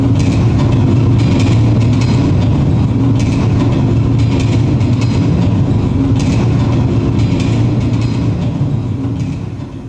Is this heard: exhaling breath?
no